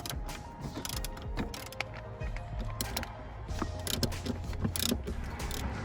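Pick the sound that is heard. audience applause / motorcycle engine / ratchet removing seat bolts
ratchet removing seat bolts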